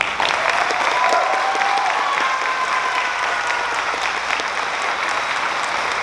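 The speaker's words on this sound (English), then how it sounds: "One more round of applause for Idali." Graduation ceremony audience applauding steadily for a graduate, a dense, even wash of clapping that holds at full strength for about six seconds with no speech over it.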